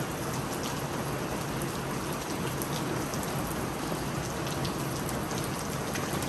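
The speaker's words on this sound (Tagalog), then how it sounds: "maulan na." Steady rain falls on a rainy day in the Philippine countryside, making a dense, even hiss with close patter on surfaces that continues without a break from start to finish.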